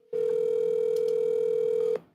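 A steady electronic ringback tone of almost two seconds plays on an outgoing phone call. The tone is loud and unbroken, starts abruptly and cuts off cleanly with no one talking.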